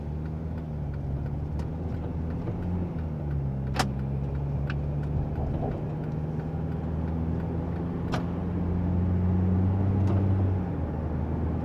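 Korando Sports pickup pulling away from a standstill and driving, a steady low engine drone with a gear change partway through, close and continuous, a few faint clicks on top.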